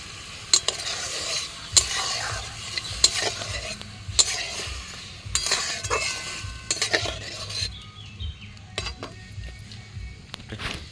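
A spoon stirs butter paneer in a pan as water goes in, with steady sizzling and frying under repeated metallic scrapes and clinks of utensil against cookware, close and fairly loud.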